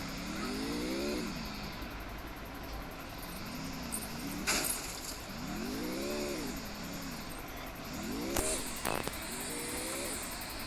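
Car engine in a battle royale video game, its pitch climbing and dropping in repeated revving swells as the car drives, with a few sharp clicks over a steady background hum.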